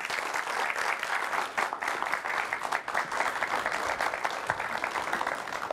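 A studio audience bursts into sustained applause for an arriving guest on a talk show, dense steady clapping from many hands lasting throughout.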